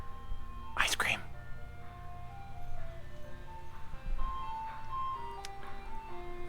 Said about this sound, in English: It's not even a normal ice cream truck.